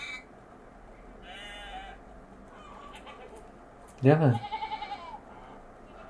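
A single loud, nearby sheep bleats in the farming video game Medieval Dynasty, a quavering call of about a second, with someone talking before and after it.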